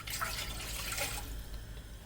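Water runs and splashes into a pot, a faint steady trickle that thins out toward the end, with no one speaking.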